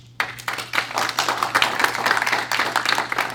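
Audience applause for a distinguished panel at a blockchain and artificial intelligence conference, bursting in suddenly and continuing as brisk, close clapping from a modest crowd over a low steady hum.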